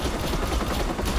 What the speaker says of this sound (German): Der Heli.